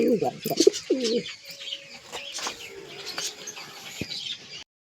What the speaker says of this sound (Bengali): আর এই হচ্ছে আমাদের পায়রাটা, যেটা ছেলের মধ্যে রেখেছি।